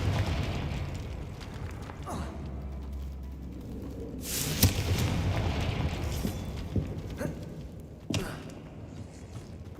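A Confringo explosive spell blast from Hogwarts Legacy bursts out mid-gameplay as a loud broadband boom, with smaller pops and rumbling game effects around it and a sharp crack near the end.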